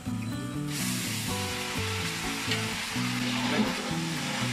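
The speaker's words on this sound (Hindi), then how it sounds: "इसमें हमने घी डाला है और प्याज को ब्राउन करें" Onions fry in hot ghee in a pot with a steady, close sizzle and some stirring, over faint tonal music in the background.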